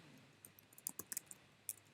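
Typing on a computer keyboard, a scatter of quiet, crisp key clicks in an irregular burst, close and soft.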